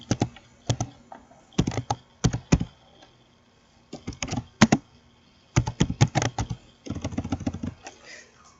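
Typing on a computer keyboard, bursts of quick key clicks separated by short pauses, close and clear, with a final faster run of keystrokes.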